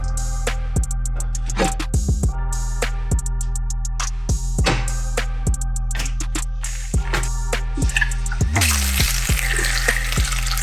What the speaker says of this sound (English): Got the bacon sizzling away